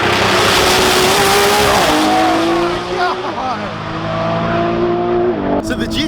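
A Nissan GT-R launches down a drag strip at a racing event, its engine climbing through gears in loud rising sweeps under steady crowd and track noise, with a brief tire chirp near the end.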